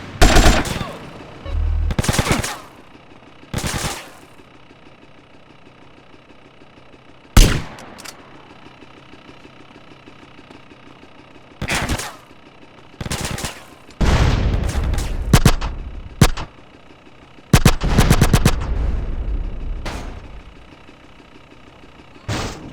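Bursts of game gunfire from GTA San Andreas, with sharp shots and rapid automatic volleys coming in clusters separated by quieter gaps, loud and close.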